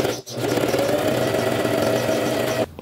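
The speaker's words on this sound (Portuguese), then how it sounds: "agora eu venho bem na marcação que eu fiz do molde e vou costurar" A sewing machine stitches along a pattern marking on fabric scraps lined with a small piece of lining, running as a steady, continuous mechanical whir close up for nearly three seconds, briefly stopping at the start and halting at the end.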